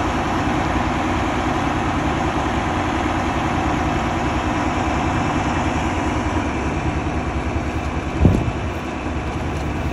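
A truck engine drones steadily under heavy load while straining to pull a stuck combine out of dirt, a loud continuous low rumble with a brief clunk near the end, with no voices.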